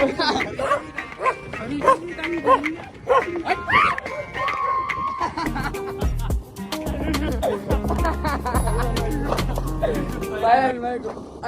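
Several dogs bark repeatedly, some nearby and some further off, overlapping with people talking throughout.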